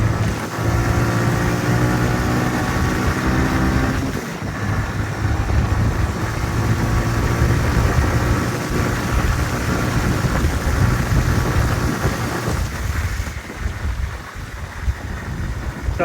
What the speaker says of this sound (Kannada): ಥರ್ಡ್ ಗೇರಲ್ಲೇ 90 ಹೋಯ್ತು ಬೈಕು